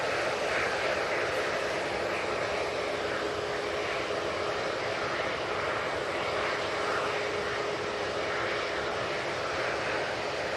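A Jet2 airliner moving at Manchester Airport makes a continuous, loud, broadband roar that stays even and unbroken for the whole stretch, with no talk over it.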